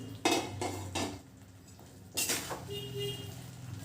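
A spoon clatters and scrapes through fried soybeans in a pan of soya chilli, several loud close metallic knocks early on, then a pause and another burst of stirring over a faint sizzle.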